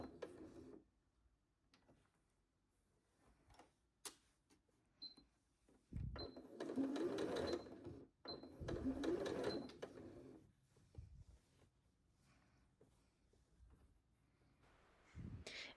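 A sewing machine stitches bias binding over a tie in two short steady runs, with soft handling clicks before and after. The motor whirs close and clearly, then stops between passes.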